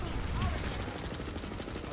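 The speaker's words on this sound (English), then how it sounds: "He's just sitting there with a thumper shooting rounds at the wall." Thumper grenade launcher rounds firing and impacting in Planetside 2, a dense, rumbling barrage of distant thuds and gunfire, fairly faint and continuous throughout.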